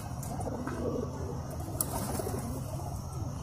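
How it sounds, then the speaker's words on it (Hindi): Soft low cooing of high flyer pigeons murmurs continuously under a busy background hum, with an occasional faint flutter. "ये इनके कबूतर आप चेक कर सकते हैं, ये ब्लीडर कबूतर हैं"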